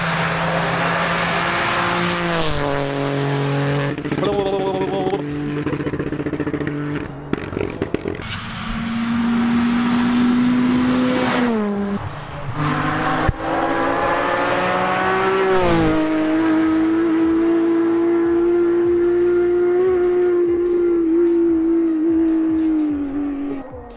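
A Peugeot 208 rally car at a rally stage in Saint-Marcellin screams past at speed, its engine loud and close with repeated gear changes, rising revs and tire squeal across a long pass.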